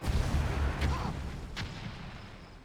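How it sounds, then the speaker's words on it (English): Missile fire from a Dreadnought battleship in the real-time strategy game Red Alert 3, a dull low rumble with a couple of faint distant booms and thuds, quiet and steady throughout. "it's just up to Chris to take down everything that he can with this Dreadnought, firing just heroic missile after heroic missile"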